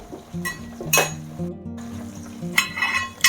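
A spoon stirs an amla chutney mixture in a metal pan, giving several distinct clinks and scrapes against the pan with quieter sizzling and gaps between strokes.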